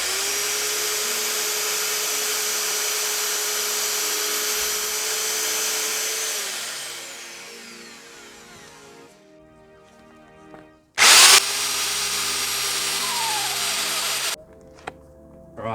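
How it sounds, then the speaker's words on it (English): A power drill drives screws into wood for a DIY koi pond build, its motor whining steadily and then winding down, followed by a short loud burst of drilling and another sustained run. "So I'm going to put some more screws in this now"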